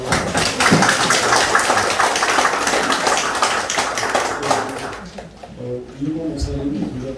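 A church congregation applauds, with dense sustained clapping that fades after about five seconds, and then a voice speaks over a quieter room.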